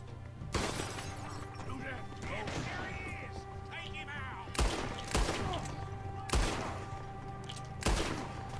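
Gunfire rings out in a Red Dead Redemption 2 shootout: several sharp, loud shots land at irregular intervals over a steady layer of game ambience and music, with people talking throughout.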